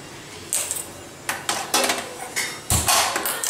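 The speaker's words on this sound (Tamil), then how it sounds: "இப்போ நான் இதை எடுத்து இட்லி இதில் வேக வைக்க போகிறேன்." Metal idli plates clatter and clank as they are set into a steamer pot, several sharp metallic knocks and scrapes close by, with no talking.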